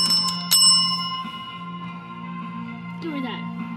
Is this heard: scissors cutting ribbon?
no